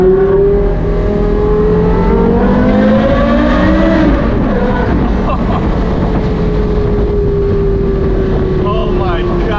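A high-performance car engine revs loudly and steadily up close while warming up, its pitch climbing and falling in sweeping harmonics as a person talks over it.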